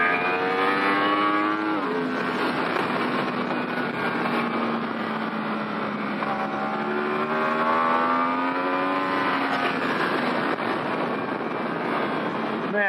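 A 2018 Yamaha YZF-R1 sportbike ridden hard on a race track, its engine screaming at high revs through continuous rising and falling pitch sweeps as gears change, loud and close throughout.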